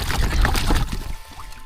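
Water poured into a container holding freshly caught night-fishing fish, a loud rushing splash up close that tapers off toward the end.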